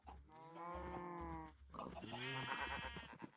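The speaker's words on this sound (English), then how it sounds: "There's the space goat." A space goat creature in the Minecraft modpack Stone Block 4 gives two drawn-out, pig-like bleating calls, close and fairly loud, with a short gap between them.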